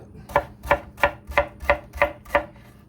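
A knife chops vegetables into thin julienne strips on a board for a creamy tomato bisque, seven evenly spaced crisp cuts in a steady rhythm, close and clear with no talk.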